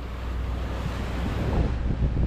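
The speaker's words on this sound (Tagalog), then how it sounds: "Yan, habagat ang hangin pala dito, habagat." Strong southwest monsoon wind at sea buffets the microphone over the wash of sea waves, a constant roaring gust with no voices.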